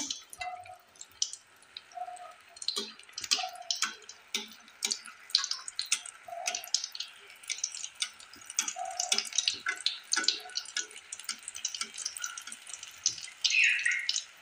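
Tel pitha, an Assamese rice-flour cake, frying in hot oil, giving a steady crackling sizzle with scattered pops and ticks, close and fairly quiet, with no talking.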